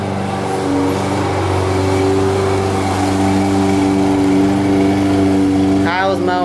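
A lawn mower runs steadily outdoors, a continuous engine drone with a mid-pitched hum that holds at an even level throughout, heard from indoors at moderate distance, with a brief higher whine near the end.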